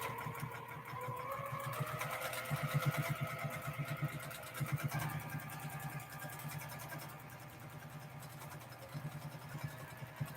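A sewing machine quilts a feather design into soft minky fabric for a baby quilt, its needle chattering in rapid rhythmic bursts that start and stop, fairly quiet and close.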